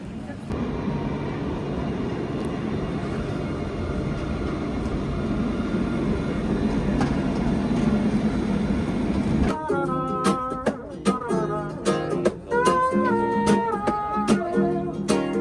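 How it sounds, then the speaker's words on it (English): A tram travelling through Bordeaux gives off a broad, steady rumble that suddenly drops away, followed by tonal chimes or voices over quieter interior noise. "The only way to travel in Bordeaux is on the tram."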